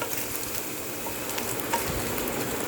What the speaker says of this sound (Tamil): இப்போ பாருங்கள், இன்னும் நல்லா ரொம்ப ஃப்ரை ஆயிடுச்சு.